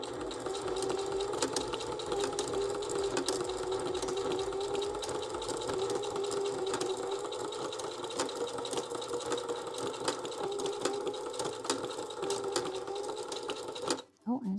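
A sewing machine runs steadily, stitching a colour block stitch at a fast even rhythm for about fourteen seconds and then stopping abruptly, with a little faint talk underneath.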